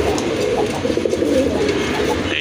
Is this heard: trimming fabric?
no